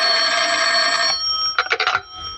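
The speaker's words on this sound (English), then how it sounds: "the phone was ringing" Old-fashioned telephone bell ringing in an office, a sustained loud electric ring followed by a brief gap and a few short rattling bursts, close and clear.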